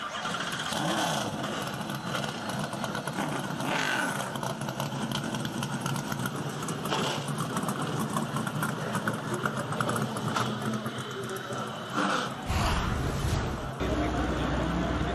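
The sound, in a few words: Whelen Modified race car engines starting and idling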